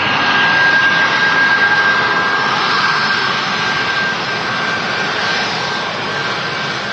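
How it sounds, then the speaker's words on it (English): Ryanair Boeing 737 MAX 8200 jet at Manchester Airport, a loud, sustained engine roar with a thin high whine running through it, holding strong and easing only slightly toward the end, heard alone. "Ryanair Max 8200. Ooh, nice sound there."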